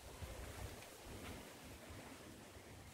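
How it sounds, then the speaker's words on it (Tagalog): Sea waves wash onto the beach at Bearland Paradise Resort in Tigbauan, Iloilo, a faint continuous surf rumble mixed with wind buffeting the microphone, with no voices. "Dito naman si dagat."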